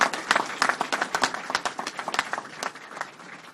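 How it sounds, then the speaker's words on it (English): Scattered clapping from a small audience of ICE employees in Atlanta, greeting a person being honored at a Vice President Pence border security event; sharp, uneven claps that stay moderately loud and thin out toward the end. "Let's give Aliyah a round of applause."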